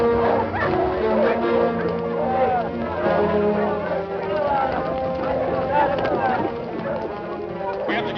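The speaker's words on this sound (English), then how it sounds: "What's that, wolves? Mostly wild dogs." Wild dogs barking and yipping in a steady chorus, with whimpers mixed in, loud and close throughout, under a busy layer of other sound that never lets up.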